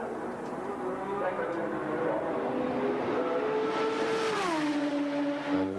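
A BMW M12/13 turbocharged engine in a Benetton B186 Formula One car during qualifying, a steady loud drone with tones that climb and then drop as the car passes, with commentary over it throughout.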